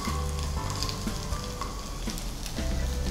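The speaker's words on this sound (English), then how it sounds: "We'll be slightly roasting the onions here." Onions roast in a tablespoon of ghee in a pan, giving a dense, continuous close-up sizzle and crackle with faint stirring and no voices.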